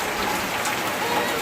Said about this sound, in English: I told you it was raining